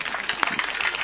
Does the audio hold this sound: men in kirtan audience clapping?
yes